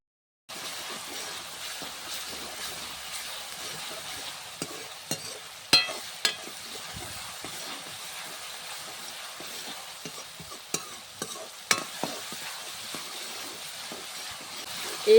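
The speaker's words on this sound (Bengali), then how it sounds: "এইভাবে নাড়িয়ে নাড়িয়ে নাড়িয়ে নাড়িয়ে তেলটা রেডি করতে হবে" Homemade hair oil with amla heats and bubbles in a pan, giving a steady crackling sizzle. Intermittent sharp knocks and scrapes come from stirring, and no one talks.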